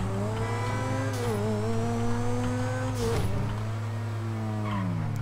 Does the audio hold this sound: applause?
no